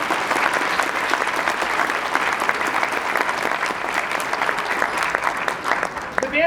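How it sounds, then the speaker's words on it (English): An audience at a high school symphonic band concert gives a round of applause, steady full-room clapping that holds evenly for several seconds, with a voice surfacing near the end. "a round of applause for Mrs. Lewis."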